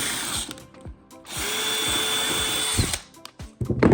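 Power drill boring a hole through a metal bed lift guide rail during a van installation, with short revving bursts followed by a sustained steady whir of about one and a half seconds, then clattering handling noises.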